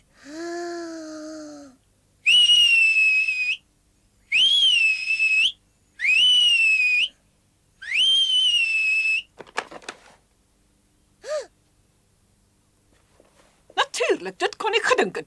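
A series of four loud, sustained whistled notes with rising and falling pitch, separated by short pauses, followed by brief rustling and faint voices.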